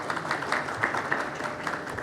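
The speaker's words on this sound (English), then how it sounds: "all our guests with a round of applause just now" Audience applause at a corporate panel event on AI in automotive manufacturing: a dense, continuous patter of many hands clapping at moderate loudness, steady throughout, with no talking over it.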